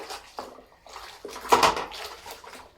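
A knitted lace shawl is hand-washed in a basin of dirty water, giving soft close sloshing and dripping splashes in uneven bursts, with one louder slosh midway and quiet pauses between.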